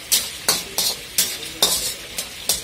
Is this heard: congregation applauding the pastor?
no